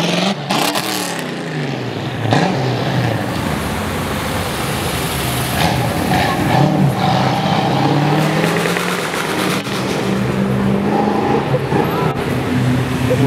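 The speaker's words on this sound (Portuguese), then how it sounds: "Espetacular Mustang." A Ford Mustang, a Mk5 V6, moves through a busy car meet at a city square, its engine rising and swelling loud and close over steady crowd and traffic noise, with other cars revving around it.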